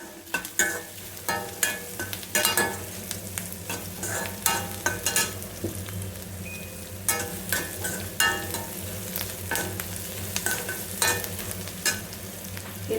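Onions fry in a pan for a bitter gourd (kakarakaya) fry, with steady close sizzling broken by frequent scraping stir strokes of a spatula throughout.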